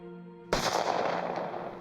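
A single gunshot in a true-crime account of a killing, a sharp loud blast that cuts in abruptly over a low tonal hum, then a broad noisy decay that lingers for over a second.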